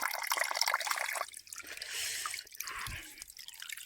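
Close by, natural spring water pours from a pipe on a hillside route to Mahendragiri in Odisha, a continuous bright splashing trickle with small dips and surges in strength and no voices.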